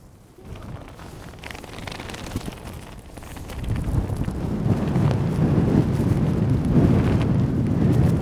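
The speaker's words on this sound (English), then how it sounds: "You gotta be careful because this wind can seriously blow you over to one side." Strong wind gusting across the open Gaomei Wetlands on Taiwan's central coast, a broad rumbling buffet against the microphone that builds from moderate to louder and steadier over several seconds, with no voices.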